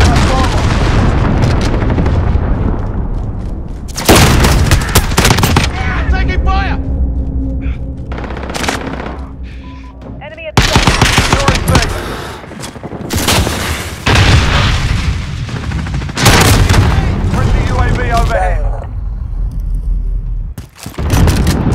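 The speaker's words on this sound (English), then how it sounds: "Allied cruise missile on right." Booming missile explosions and bursts of automatic gunfire in a combat video game, loud and repeated in heavy waves with brief lulls, game voice lines spoken over the battle.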